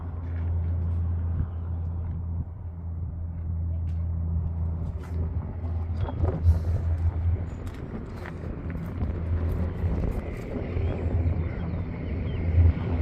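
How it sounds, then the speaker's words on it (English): Truck passing on a road, its engine brake giving a low, rough, drawn-out rumble that rises and falls, moderately loud, with more traffic noise behind it. "truckers don't know what to do with their J brakes at times"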